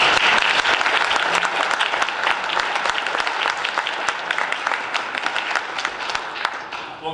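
Guests at a Lincoln Day political dinner give a sustained round of applause, with crisp, dense clapping from a large room that tapers gradually and carries some faint crowd murmur.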